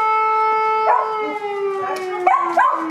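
A civil-defense siren wails with a steady sustained tone while dogs howl along with it, their rising yowls repeating over the drone at close range.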